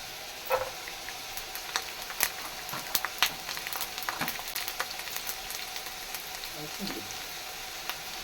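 Garlic frying in hot oil in a pan for ridge gourd fry, a steady crackling sizzle with scattered sharp pops and ticks, fairly close and alone.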